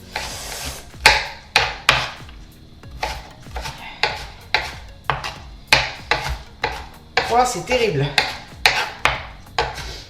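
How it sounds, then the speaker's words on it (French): A knife finely chops a shallot on a cutting board in a home kitchen: quick, sharp, close taps in irregular bursts, repeating steadily, with a brief spoken exclamation partway through. "il ne me reste plus qu'à couper finement l'échalote. Je l'émince"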